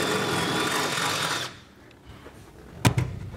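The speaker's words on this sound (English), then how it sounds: "we'll just take our drill bit and we'll kind of just hit it at a little bit of an angle" Power drill running steadily as its bit widens a hole for a B and W fifth wheel trailer hitch on a 2012 GMC Sierra, a continuous whir for about a second and a half that stops, followed by quiet and a couple of sharp knocks.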